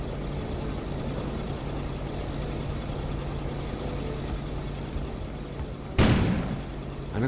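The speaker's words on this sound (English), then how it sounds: "An explosion suddenly occurred outside." A sudden loud explosion bursts outside in the video game Kona, a single sharp blast near the end after a steady low droning background.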